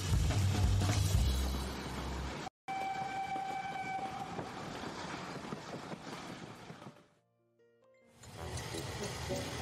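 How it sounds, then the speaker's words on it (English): A British royal train runs along the rails with a steady rumble and a horn blast, then fades briefly to near silence before the rolling sound returns. "All aboard the Royal Train."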